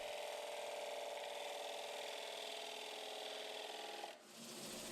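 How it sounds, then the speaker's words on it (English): A wood-turned bowl, turned thin, is sanded smooth on the lathe, giving a steady loud rasping rub that runs continuously before dropping off near the end. "The piece is sanded smooth and finished off with food-safe Danish oil."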